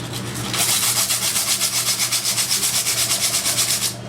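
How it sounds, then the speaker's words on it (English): Emery cloth rubs back and forth over a threaded pipe fitting to clean off scale and rust, a close, loud, rhythmic scraping of about sixteen quick strokes with no talk. "Use your emery cloth."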